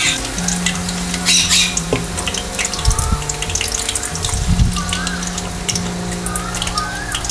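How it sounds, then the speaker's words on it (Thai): Pork pieces frying in hot oil in a pan, a steady loud sizzle with stirring clatter and a few watery splashes, carrying on throughout with no talk. "น้ำมันร้อนค่ะ ให้เรานะใส่หมูค่ะ ลงทอดเลยค่ะ"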